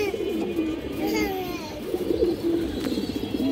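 A Musolman pigeon coos in soft, rolling phrases among other birds, close up, with children's voices and chatter in the background.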